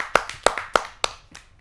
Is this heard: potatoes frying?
no